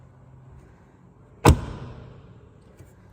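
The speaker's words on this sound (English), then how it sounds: "when you close these doors, they sound absolutely solid" An Ineos Grenadier's door is shut once, a single heavy, solid thud with a short ringing decay, close by against a quiet background.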